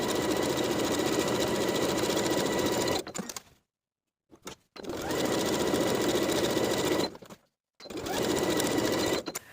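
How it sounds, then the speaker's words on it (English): A sewing machine edge stitches along folded overall straps in three long, steady whirring runs, each stopping with short pauses and a brief stutter of stitches between, close and alone. "I'm going to edge stitch in place along both inner edges of the folds."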